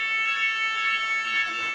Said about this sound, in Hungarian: csupán a különleges grillezési mód indította be a tűzjelzőt